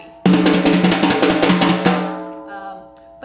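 A drum brush played in a one-handed roll, held farther back for a louder, darker, fatter and more slappy tone, gives a sustained dense swishing wash with rapid pulses that fades out, alone.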